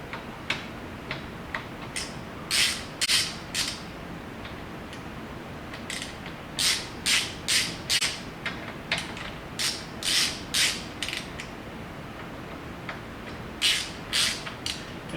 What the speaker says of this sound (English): we just got a few of these Allen head screws to undo